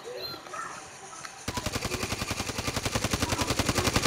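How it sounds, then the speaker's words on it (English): Rapid automatic gunfire from Call of Duty: Modern Warfare Rebirth bursts in after a quiet stretch, a steady rattling stream of close, loud shots that keeps going to the end. "somebody's shooting"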